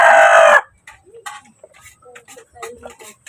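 A native hen clucks in short, soft bursts after a brief loud crow-like call at the start, with people talking nearby over the quiet farmyard sounds.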